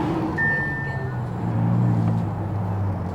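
A twin-turbo Audi R8 driving, a steady low engine rumble that swells slightly midway, with a brief faint whine early on.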